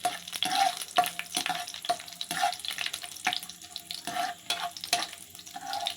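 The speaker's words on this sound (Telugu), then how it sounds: "ఇవి కూడా కొంచెం ఫ్రై అవనివ్వాలి. కొంచెం లైట్గా బ్రౌన్ కలర్ వస్తే చాలండి" Ingredients for carrot halwa frying lightly in a pan, a steady soft sizzle with intermittent scraping stirs and clinks of a spoon against the pan, close and continuous throughout, no talking.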